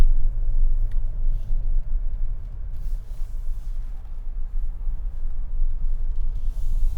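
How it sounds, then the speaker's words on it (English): A 2026 Hyundai Palisade XRT PRO in mud mode climbs a steep mountain trail, giving a low, steady rumble of engine and tyres with a fluttering, uneven texture and no talk. "it did a great job keeping the tires moving in this mode and propelling the vehicle up this pretty steep mountain"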